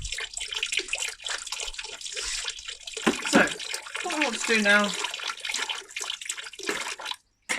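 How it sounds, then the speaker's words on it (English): A laboratory tap runs steadily during nitric acid preparation, making a continuous splashing water sound at moderate level while a person talks over it. "turn off the water"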